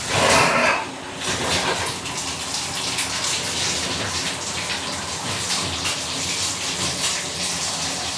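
Tap water runs steadily from a faucet to air out a household plumbing system after a pressure-reducing valve replacement, a continuous broadband rush that starts with a brief louder splash and holds level throughout.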